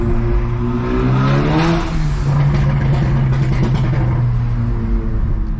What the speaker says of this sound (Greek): η εξάτμιση έχει κλαπέτο πίσω